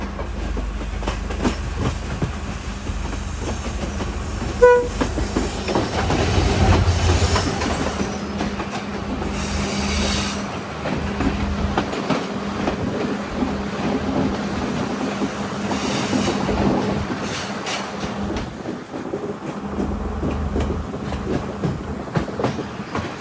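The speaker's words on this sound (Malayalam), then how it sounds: "ലോക്കോമോട്ടീവ് നമ്മുടെ ഇന്ത്യയിൽ നിന്ന് ഇവിടത്തേക്ക് ഇമ്പോർട്ട് ചെയ്തതാണ്" A first class train travelling from Colombo to Kandy behind an Indian-made locomotive gives a continuous rumbling ride, with rhythmic clickety-clack of wheels on rails, hiss and occasional squeal, heard from inside the carriage without talk.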